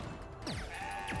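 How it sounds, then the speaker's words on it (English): Goats in the video game CrossCode give a couple of short synthesized bleats, the second brief, over steady game background sound with a low tone. "Goats, but yes."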